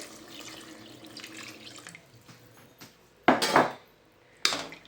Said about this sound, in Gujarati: હવે આપણે પાણી એડ કરી દેવાનું છે